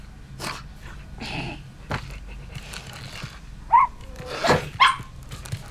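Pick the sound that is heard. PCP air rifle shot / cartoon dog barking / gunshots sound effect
cartoon dog barking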